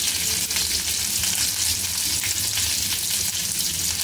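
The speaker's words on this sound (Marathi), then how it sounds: "मीडियम गॅसवरतीच आपल्याला तळून घ्यायची आहे ती," Stuffed okra fries over a medium gas flame in an open pan, making a loud, dense, continuous sizzle with no break and no voices.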